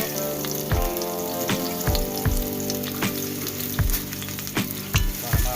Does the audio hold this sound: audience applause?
no